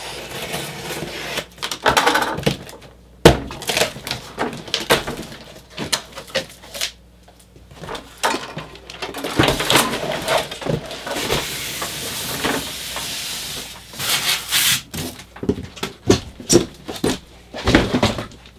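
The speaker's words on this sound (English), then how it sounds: "let's open the package itself and see what we get inside of the box." A Lian Li PC-100 computer case box is opened and unpacked from its styrofoam side packing, giving a steady run of close cardboard rustles, scrapes and knocks that come and go with brief pauses.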